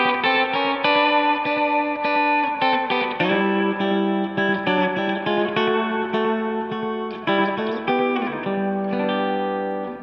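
A country guitar riff played with hybrid picking through mild overdrive and reverb, with bright sustained notes and quick string bends, loud and close with no voice.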